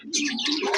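Pet pigeons kept in cages coo and chirp in a short burst, close and fairly loud, with no talk.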